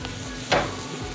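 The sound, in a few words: butter sizzling in a hot pan over a fire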